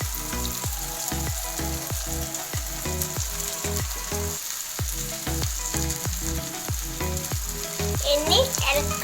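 Curry leaves, garlic, ginger and green chilli frying in hot oil for kadai chicken give a steady close sizzle, cut by regular rhythmic knocks of a spoon against the pan throughout.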